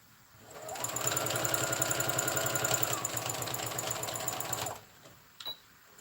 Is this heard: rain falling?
no